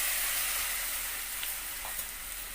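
Spices and ground cumin frying in a pan sizzle steadily after a splash of water is added, a close, even hiss with a few small pops.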